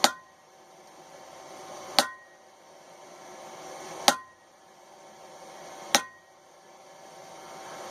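Hammer strikes a chisel while a railroad spike is forged into a knife: four sharp metallic blows spaced about two seconds apart, each ringing briefly before fading, with no talking.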